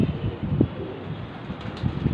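Pigeons coo softly in low, throaty murmurs, a couple of short calls over light wind rumble, fairly close.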